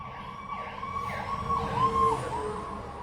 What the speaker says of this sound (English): This one sounds like an ambulance though